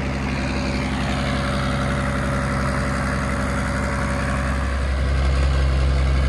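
A heavy Ursus 1614 tractor engine drones steadily and loudly at close range while working a field with a potato planter, a constant low rumble with a slight rise in load near the end.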